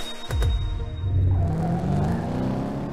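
A Ford Mustang in the Top Drives racing game gives a short, loud rumbling burst of engine revving that swells and then holds a low drone, with no voices.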